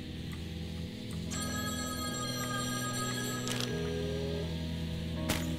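An in-game telephone rings in the indie game The Hungry Fly, a synthetic bell-like ring of steady tones lasting a few seconds over a continuous low musical drone, ending with a sharp click.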